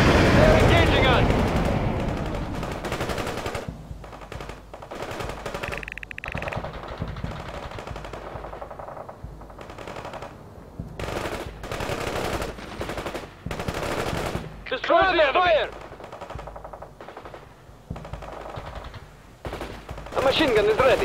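Machine gun fire rattles through a war video game battle in repeated bursts, some sharp and close, others scattered and farther off, mixed with explosions and shouted voices between volleys.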